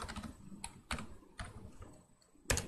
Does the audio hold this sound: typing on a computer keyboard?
yes